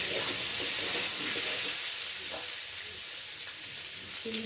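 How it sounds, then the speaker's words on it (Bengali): Eggs fry in oil in a pan with a soft, continuous hiss and occasional faint stirring scrapes, fairly quiet overall. "দেখতে পাচ্ছি যে ডিমগুলো, আর এখন ভালো করে নেড়ে দেবো।"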